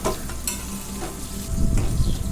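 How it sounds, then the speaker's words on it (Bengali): Potato and taro pieces fry in hot oil, a soft continuous close sizzle with a bit of stirring, growing louder near the end, no talk. "বেশ সুন্দর করে আলু কচুটাকে বেশ ভালো করে লাল লাল করে একটু ভেজে নেব।"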